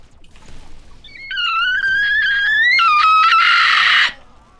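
A person imitates a cat's meow with a long rising, wavering vocal cry that ends in a harsher strained burst, loud and alone with no talk.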